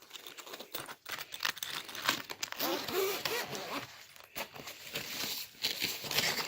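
A zipper on the compartment of a ProTec ProPac saxophone case opens in quick, raspy pulls. Nylon rustles and handling noise sound close and quiet.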